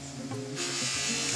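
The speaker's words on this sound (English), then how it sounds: "Go over the stummel again." An open, unguarded buffing wheel polishes a pipe stummel with a steady motor buzz, and a brighter, rougher whirr joins midway as the bowl is pressed against the spinning wheel.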